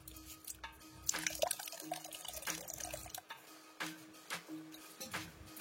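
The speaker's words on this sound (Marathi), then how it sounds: "मिक्सरच्या भांड्यात पाणी ऍड करून आता हे याच्यावर ओतायचंय" Water poured from a mixer jar over ground crab mixture to strain it, a faint close trickle and splash with dripping and light clinks throughout.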